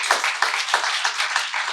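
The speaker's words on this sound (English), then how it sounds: "Please give him a big round of applause." Clapping from an audience at an industry day event, welcoming an in-house engineer; a small group applauds with distinct individual claps in a steady patter, fairly close and moderately loud, with no talking.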